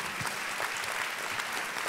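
Brief, dense applause from an audience at a debate on globalisation, steady clapping filling the whole short moment.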